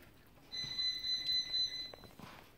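An alarm in a home kitchen gives a shrill, steady electronic beep for about a second and a half, fairly faint and alone, then stops.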